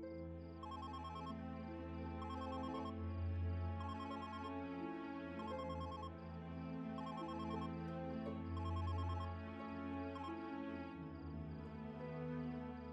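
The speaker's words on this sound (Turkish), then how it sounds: "Burcu, telefonun çalıyor, gel bak." A telephone rings over and over in bursts of a repeating electronic ringtone melody, steady and fairly loud, with no voices.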